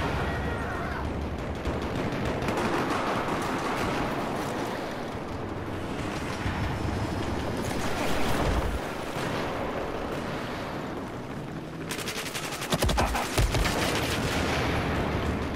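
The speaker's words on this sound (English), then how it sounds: "Shot by the guy with the nail gun." Nail gun fire crackles through a Battlefield 4 battle in quick bursts, mixed into a dense, roaring wash of gunfire and ambience, with a sharper cluster of shots near the end.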